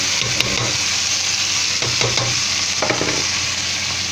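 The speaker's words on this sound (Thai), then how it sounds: "เต้าหู้เหลืองนิ่มครับเอาไปทอดก่อนนะครับหั่นอย่างนี้ ทอดให้กรอบเลยครับ" Soft yellow tofu slices sizzle in hot oil as they fry until crispy, with a steady close crackle and occasional stirring or shifting sounds, and no talking.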